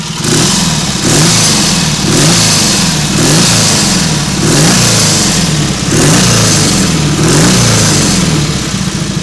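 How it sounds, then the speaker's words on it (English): A Norton Nomad 500 motorcycle engine running in a workshop, loud and close, a steady mechanical drone that swells and eases in a regular pulsing rhythm roughly every second and a half, with no voices. "I've had the engine running for about 5 minutes now."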